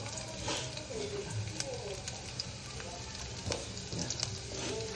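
Chili, ginger and garlic frying in hot oil for desi-style chilli chicken soup, a steady bright sizzle with occasional stirring scrapes and faint background voices.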